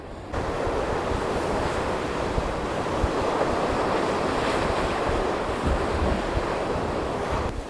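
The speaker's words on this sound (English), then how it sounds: "This wind is supposed to be here all day" Strong, steady wind roaring by the ocean during a snowstorm in Svalbard, with surf washing underneath in a dense, unbroken rush from start to finish.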